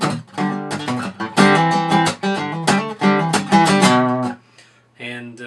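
Acoustic guitar playing measures 17 and 18 of a song, leading into the second verse, with rhythmic strummed chords, muted accents and short pauses, close and clear, ending on a softer sustained chord.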